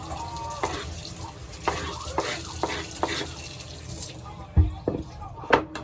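Eggplant is rinsed in water, with splashing and sloshing, rubbing and occasional knocks against a basin, close up and moderately loud.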